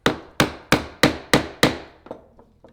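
Six sharp, evenly spaced strikes as a chisel is driven into wood toward a marked line, each crack decaying quickly, followed by a few fainter taps.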